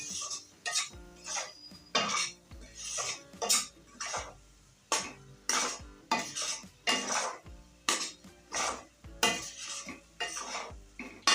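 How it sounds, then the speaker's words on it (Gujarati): A spoon scrapes and stirs a thickening barfi mixture of rava, besan, milk and malai in a pan, with rhythmic, evenly spaced strokes clinking against the metal, close and clear with no talking. "આપણે બધું દૂધ એક સાથે નથી નાખવાનું થોડુંક થોડુંક નાખી અને આ રીતના મિક્સ કરી લેવાનું"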